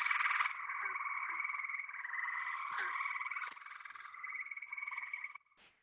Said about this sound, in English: So this is another type of frog. This is a tree frog